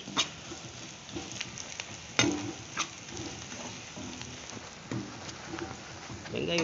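Curry leaves crackle and sizzle in hot oil with small shallots, a steady close frying hiss broken by a few sharper pops and clinks.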